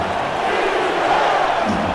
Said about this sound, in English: the Crab crowd, which is a little bit more empty than usual because of the weather, chanting defense